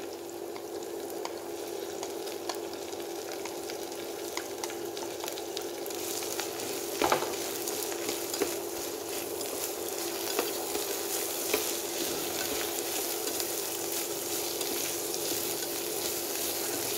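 Chayote and carrot stir-fry in a pan, making a continuous crackling sizzle with scattered sharper pops and scraping stirs, heard close and steady for the whole stretch with no voices.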